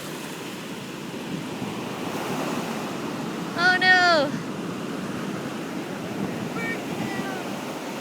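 Ocean waves wash steadily up on a beach shore in a constant, wind-blown rush of surf, while a person gives one short exclamation midway.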